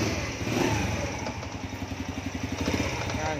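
A cold motorcycle engine runs at a steady, rhythmic idle close by, its low chugging pulse loud and continuous.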